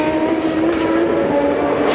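A Champ Car race car in the 2007 Toronto race enters pit lane. Its engine holds a loud, steady droning tone for the whole moment, alone with no voices.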